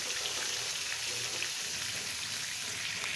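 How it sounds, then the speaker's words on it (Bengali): Chicken pieces frying in a pan, a steady, even sizzle with faint crackles throughout, fairly quiet and close, no voices. "সবগুলো চিকেন এইভাবে বেজে নেব"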